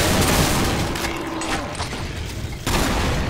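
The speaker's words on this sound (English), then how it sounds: "There we go. Super shotgun." A super shotgun fires in the video game Brutal Doom Project Brutality 3 with loud, heavy blasts and mechanical clatter, and a fresh booming shot lands near the end.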